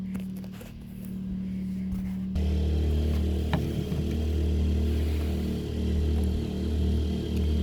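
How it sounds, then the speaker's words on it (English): Generators at a campsite cabin drone steadily with a deep, loud, low hum that swells suddenly partway through as a door opens closer to them, continuing unbroken with faint clatter over it. "That's our generators."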